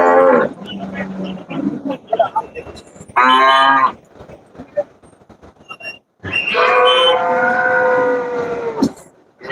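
Cattle moo loudly at the Monday cattle market in Melapalayam, Tamil Nadu, with several long, drawn-out calls close by and quieter market bustle in the gaps between them.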